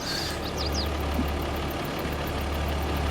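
An X9 combine harvester engine runs steadily on a Missouri farm in Alma, a continuous low drone with a constant rumble and faint chirps above it, no talk.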